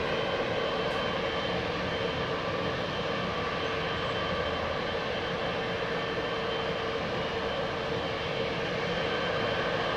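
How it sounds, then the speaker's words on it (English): An Air India Boeing 777-300 bound for Mumbai at London Heathrow Airport produces a steady, broad jet engine roar that holds constant, moderately distant and without talk. "Jill Blakely loving the sound of the engines."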